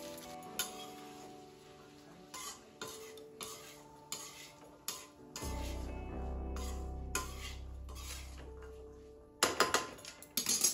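Peas roasting in a pan as a spoon stirs them, making repeated metallic scrapes and clinks over a steady sizzle that grows louder midway, heard close with no talking.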